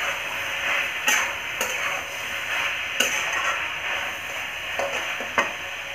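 A Bihari-style dish frying in a pan over high flame, a steady close hiss and sizzle throughout, broken by a few scraping clacks of a spoon stirring, with no talk.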